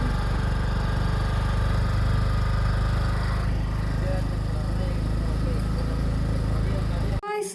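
A vehicle engine runs while being driven slowly, giving a loud, close, continuous low mechanical drone that holds steady before cutting off abruptly near the end.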